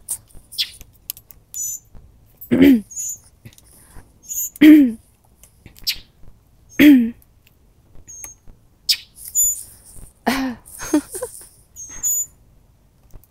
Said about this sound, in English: God, these birds.